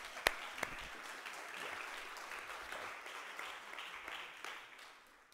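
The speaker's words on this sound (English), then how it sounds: "give me a round of applause" A church audience claps together in a steady, moderately faint round of applause with a couple of sharper claps near the start, fading slightly toward the end.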